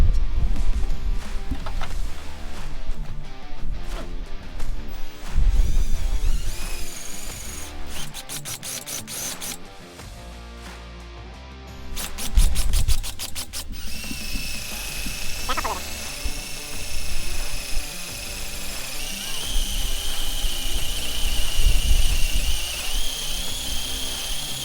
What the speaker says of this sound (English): So let me drill holes on the other side and I'll be right back.